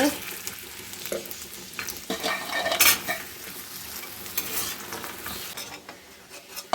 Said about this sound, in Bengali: কড়াতে সর্ষের তেল দিয়েছি বড়িগুলোকে ভেজে নেব